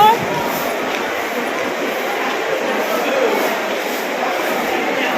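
A crowded daytime local train bound for Sealdah, heard from inside: a loud, continuous rumble and rattle of the rolling carriage, with a murmur of passengers underneath.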